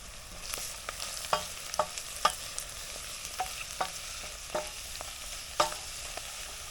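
Oyster mushrooms tumble into a pan of gently sweating onion, garlic and celery for cream of mushroom barley soup, making a steady soft sizzle broken by sharp scraping clicks as they are stirred. No one speaks.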